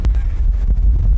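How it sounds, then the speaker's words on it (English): Strong wind buffeting a microphone outdoors by a wood, a loud low roaring rumble with gusty surges over its brief length. "I'd imagine this sound is absolutely windy"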